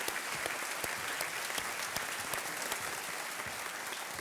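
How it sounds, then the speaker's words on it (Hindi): Studio audience on the Kaun Banega Crorepati Season 7 set claps for a contestant: a continuous, even burst of many hands with crisp individual claps standing out, sustained throughout at moderate level. "एक बार तालियों के साथ उनका अभिनंदन करते हैं"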